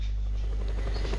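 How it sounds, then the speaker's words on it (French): An attack helicopter flying in the video game Just Cause 2 produces a steady, low rotor drone with a continuous buzzing hum, heard alone at moderate volume. "On va terminer la station pétrolière avec un hélicoptère de combat."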